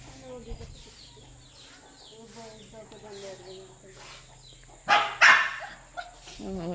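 A dog at a village home barks back at clucking chickens. Bird calls run through the first half, then several loud, close barks burst out near the end, with a person talking alongside.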